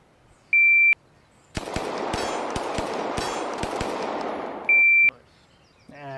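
A shot timer beeps to start a timed shooting drill, then about ten gunshots crack in quick, even succession, loud and close, and a second beep ends the string.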